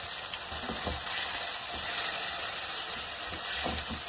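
Onion, with garlic, frying in a pan for a creamy chicken pasta, giving a steady hissing sizzle with soft intermittent stirring thumps, close and moderately loud without speech.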